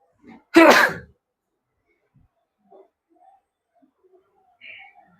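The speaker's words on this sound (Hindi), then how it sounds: "सर्दी है, छींक आ गई।" A single sharp, loud sneeze from a teacher with a cold in a classroom, followed by near silence and a few faint sounds.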